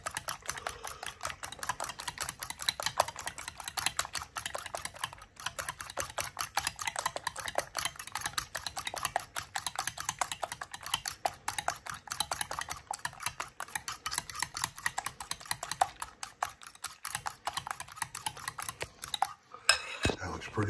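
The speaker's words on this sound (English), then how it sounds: "You want to whisk it up really good. You want some really good fluffy scrambled egg." Rapid, steady clinking of a whisk against a bowl as eggs are beaten for fluffy scrambled eggs, a close, continuous metallic rattle with no talking.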